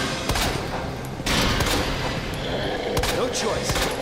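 Rapid bursts of gunfire aimed at Mr. X in Resident Evil 2, a dense fusillade of loud close shots running through the whole stretch with brief breaks, sharp blasts standing out near the middle and end.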